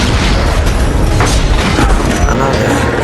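Train crash explosion in an Uncharted game, a loud, continuous, dense booming roar of crashing wreckage and blast that stays at full intensity throughout without pause.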